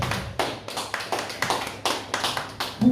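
A church congregation applauding in a steady rhythmic clap, beats evenly spaced and fairly close, with no other sound standing out.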